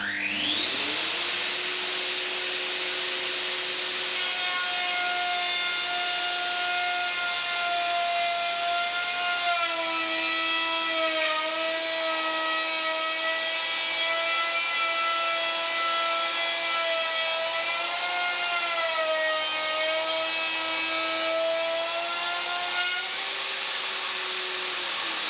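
A Festool router milling a groove in wood for an automatic door seal runs as a sustained high-pitched whine, steady and close for the whole stretch, with slight dips in pitch as the cutter loads and a wind-down at the end.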